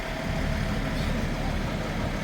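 Off-road vehicles gather before a rescue run toward Guria. Their engines give a steady, low, continuous idling rumble throughout, fairly close and unchanging.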